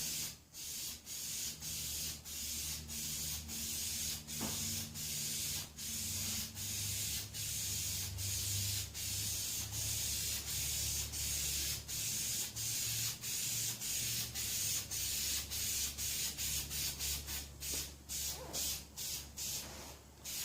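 Iron Armor truck bed liner sprays onto the hood of a Geo Tracker in a steady hiss, broken by regular short pauses as the spray gun trigger is released and pulled again.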